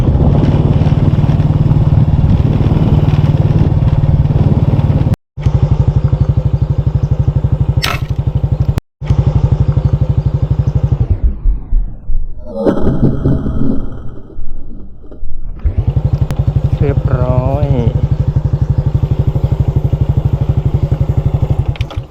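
A motorcycle rides along a canal with its engine droning loud and steady at close range, easing off briefly near the middle before returning to a constant throaty hum.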